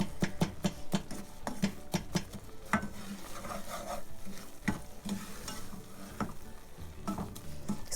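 Semolina roasts in butter in a pan for sooji halwa while a spoon stirs it, making rapid repeated scrapes and knocks on the pan over a low continuous sizzle, close up and without speech.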